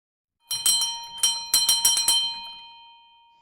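A doorbell at a Berlin apartment door rings out in a quick run of bright, clear chimes, with the last tones fading away into silence.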